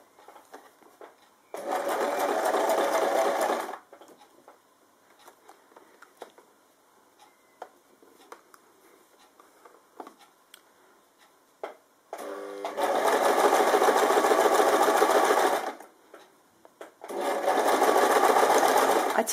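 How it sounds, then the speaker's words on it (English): A sewing machine stitches bias binding with a binding foot, loud close whirring bursts of steady rapid stitching, one short burst early and two longer runs later, separated by quiet stretches with small clicks and handling. "then we can start to sew on through"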